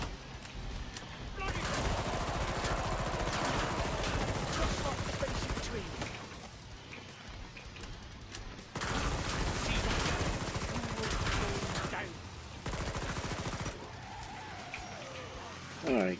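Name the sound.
gunfire from a gun in video game Killing Floor 2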